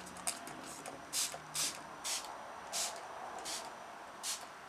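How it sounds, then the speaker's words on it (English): MAC Prep + Prime Fix+ setting spray misted onto a face in several short, soft hissing bursts spaced about half a second apart, close and fairly quiet. "I haven't sprayed it yet"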